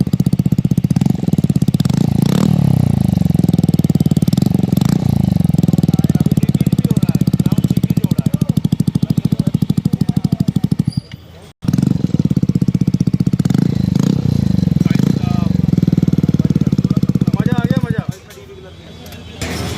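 A Yamaha Aerox 155 scooter fitted with an aftermarket exhaust, mounted straight without a bend pipe, idles and revs loudly up close with a throaty burble and repeated throttle blips, cutting out briefly near the middle, while people talk in the background.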